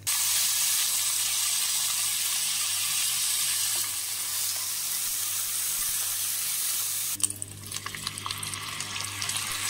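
Basmati rice tipped into vermicelli frying in a pot gives a loud, dense sizzling hiss that fades abruptly near the end into quieter crackles over a low hum.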